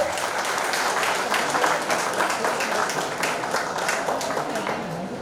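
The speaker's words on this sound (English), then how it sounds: "Can we have a big round of applause?" An audience at a college software hub launch event claps, a dense, steady wash of applause with voices mixed in.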